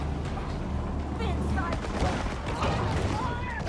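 Hunters' guns fire in the Maneater shark game, a muffled scatter of shots and booms under a steady low rumble, partly masked by someone talking over it.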